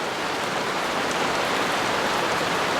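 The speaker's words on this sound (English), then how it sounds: "It's raining." Steady rain falls in a dense, even hiss that stays constant throughout, with no voices or other sounds.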